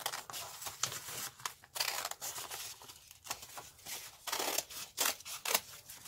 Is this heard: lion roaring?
no